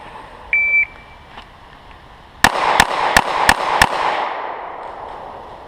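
Five sharp pistol shots from a Smith & Wesson M&P 9c ring out in quick succession at a range, preceded by a short electronic beep like a shot timer.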